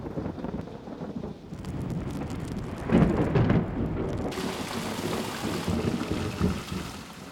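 Steady rain pours down through a thunderstorm while a deep, rolling peal of thunder swells loudly near the middle and fades, the downpour continuing heavily after it.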